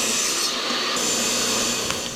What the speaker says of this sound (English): I'm going to cut that out of this board here.